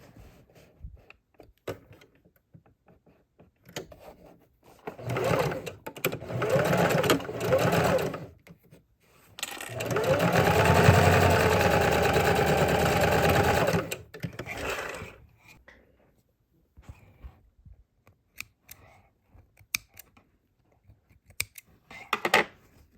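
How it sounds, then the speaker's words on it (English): A sewing machine stitches half-inch seams for boxed corners on a reusable fabric gift bag lining with heavy interfacing, running in short bursts and then one sustained steady whirring run, close by, with no talking. "we're going to go back to the machine and sew a 1/2 inch here and here"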